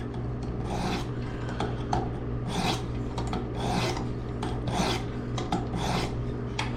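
Knife drawn through a Work Sharp precision sharpener, about five even rasping strokes in a steady rhythm, close and clear over a low constant hum.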